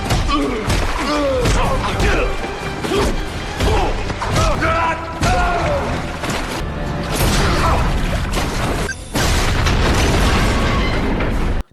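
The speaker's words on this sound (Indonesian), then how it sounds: "bom itu akan meledak menghancurkan seluruh gedung" Bomb blast destroying a whole building in an action film scene: dense, loud rumbling booms and crashing debris with repeated thuds and bursts, continuous and chaotic throughout, with a brief dip near the end.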